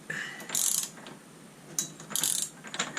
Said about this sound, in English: Sounds like I'm using a lot of effort, but it's a very small ratchet.